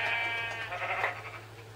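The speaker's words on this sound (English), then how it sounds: "Ooh, sheep." A sheep in the Minecraft survival game gives a steady, buzzy bleat that lasts nearly two seconds, loud and close, with no other sound.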